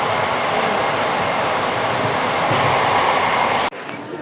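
A train rattles along with a loud, steady rumble and clatter heard from on board, then cuts off abruptly near the end.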